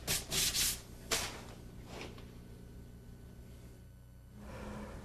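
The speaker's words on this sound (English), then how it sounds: "For each of these areas, I pick a curved sanding block to roughly match the curve I'm dealing with." A curved sanding block rubs across a curved wooden chair seat, with several loud, close, rhythmic abrasive strokes at the start giving way to quieter, steady scraping.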